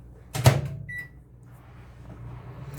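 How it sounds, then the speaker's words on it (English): A short thud and clatter, then a microwave oven melting melt-and-pour soap hums steadily with a brief beep, ending in a soft click. "we're going to put this back in the microwave"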